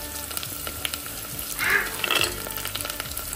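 Green chillies and onions frying in oil in a pressure cooker, a steady close sizzle with a brief louder crackling burst in the middle as the vegetables hit the hot oil.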